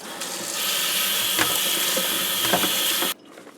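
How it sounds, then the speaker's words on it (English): Running tap water pours into a sink as kale is washed, a loud steady splashing hiss for about three seconds that stops abruptly. "Now, all I gotta do is wash the kale."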